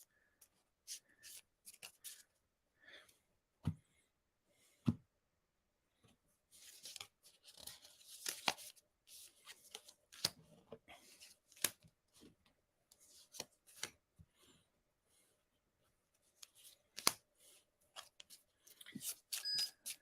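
Tarot cards being shuffled by hand, a run of soft papery riffles and flicks in irregular bursts, faint and close, with brief pauses and no talk.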